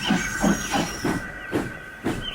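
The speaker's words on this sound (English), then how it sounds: "Gordon backed down on his train, hissing mournfully." Steam engine Gordon hisses in short, regular bursts of steam, about six puffs in quick rhythm with a faint high whistle-like tone beneath, close and fairly loud.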